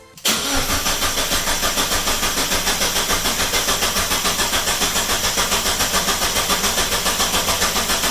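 A home-built Exocet turbo car engine cranks briefly and then catches, settling into a loud, steady idle with a rapid regular pulse that continues without any talking.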